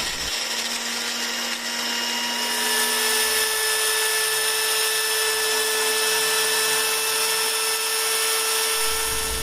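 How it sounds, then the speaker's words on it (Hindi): An electric grinder whirs loudly and continuously as whole spices are ground into daleem masala powder, its steady motor whine rising slightly in pitch after a couple of seconds and holding on without talk. "ये सारे मसाले हम ग्राइंडर में डाल के इसको पीस लेंगे और बिल्कुल बारीक हमने एक पाउडर बना लेना है।"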